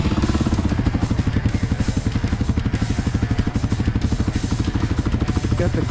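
A dual sport motorcycle idles with its choke on, warming up on a near-freezing morning, its single engine putting out fast, even, close thumping pulses at steady volume.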